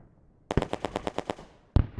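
Rapid burst of automatic gunfire with a dozen or so evenly spaced shots, loud and close, followed after a short pause by a single heavier report, a sound effect in a Tau versus Death Guard Kill Team battle.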